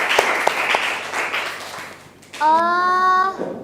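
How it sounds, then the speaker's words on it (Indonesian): A classroom of students claps hands together in scattered, fairly loud applause that thins out, followed by a brief high, steady tonal sound near the end. "Tepuk tangan dulu"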